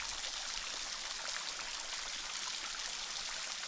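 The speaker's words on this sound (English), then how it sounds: "This is definitely the cave waterfall, because it can't be anything else other than that." Small waterfall splashing inside a cave in Bulgaria, a steady full rush of falling water that stays constant and close, with no voices over it.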